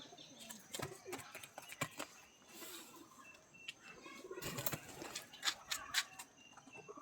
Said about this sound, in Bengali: এই যে পায়রার নতুন ঘর হচ্ছে, যার জন্য এই পায়রাগুলো আছে, অনেক পায়রাই আছে।